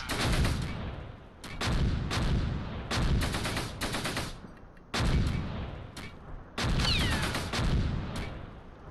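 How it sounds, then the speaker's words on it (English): Repeated heavy mortar and artillery blasts in the Close Combat war game, a series of loud booming bursts roughly every second with short gaps, rumbling low end and crackling tails. "Mortars are getting more accurate"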